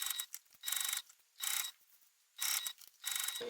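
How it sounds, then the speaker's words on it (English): A sewing machine stitches through seatbelt webbing on a belt bag, running in short bursts of rapid mechanical whirring separated by quiet pauses, five runs in close succession. "I'm just sewing up to the tape"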